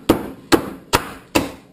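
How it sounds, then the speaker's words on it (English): Four close, heavy hammer blows land in a steady rhythm while fudge is being made, each a sharp thud with a brief ring, no speech. "I get to use a hammer!"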